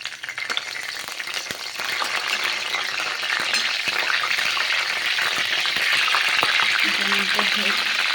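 Steady crackling sizzle of curry leaves frying in hot oil in a kadhai, close and continuous, with a few faint clinks and a brief low hum near the end.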